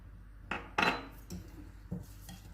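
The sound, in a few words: mixing pomegranate powder, cumin, coriander, mint and salt for raita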